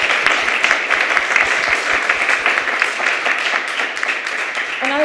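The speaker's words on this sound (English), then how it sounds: "Some were starting to applaud right now." Steady, dense applause from an audience at a finance event, close and continuous for the whole stretch with no pause in the clapping.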